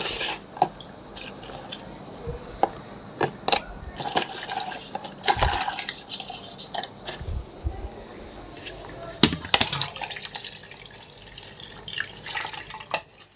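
Lemon leaves are rinsed under a running kitchen tap, with water splashing and dripping into a sink in uneven bursts and clatters, close and moderately loud.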